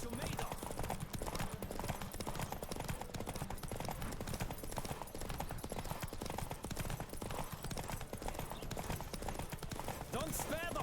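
Hooves of a horse galloping in a race in The Witcher 3, a fast continuous clatter running the whole way with game voices speaking over it.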